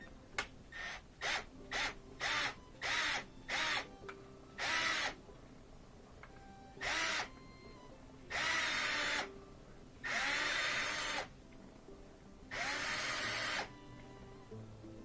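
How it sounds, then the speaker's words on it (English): A Torx 15 driver turns the spring-tension adjustment screw on a Miele dishwasher, giving a series of short, close whirring bursts that start quick and rapid, then stretch into longer runs with gaps between them. "So here's the adjustment screw. I've got a Torx 15."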